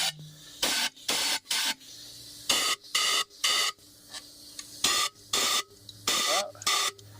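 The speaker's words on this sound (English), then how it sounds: "I'm just going to use a little bit of compressed air here" Compressed air blows dirt off the gasket area of a Nissan VQ40DE engine in short, loud hissing bursts, about a dozen of them in an irregular rhythm, with quiet gaps between.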